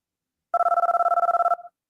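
A telephone ring sound effect plays once, a single loud electronic trill of rapid pulses lasting about one second, then a short fading tail, alone in silence.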